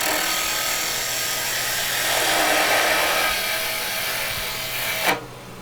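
A gouge roughs excess wood off a small turning on a lathe, shaping a wooden Christmas-tree wine stopper, with a continuous hissing, scraping rush that swells midway and ends with a sharp stop.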